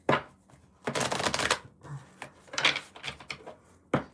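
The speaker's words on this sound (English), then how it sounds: "let me shuffle these cards again" Tarot cards are shuffled in a few quick riffling bursts, crisp and close, with brief pauses between, then a final snap.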